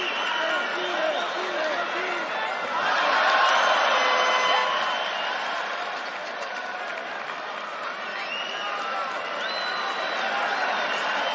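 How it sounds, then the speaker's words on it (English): A UFC arena crowd roars and cheers throughout, with a swell of noise near the start, while a commentator's voice talks over it. "the crowd are getting behind it"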